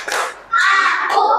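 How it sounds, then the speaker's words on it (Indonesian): Schoolchildren in an Indonesian primary classroom clap together in two brief, scattered bursts, close and lively, over roughly a second and a half. "mari kita tepuk tangan untuk kita semuanya"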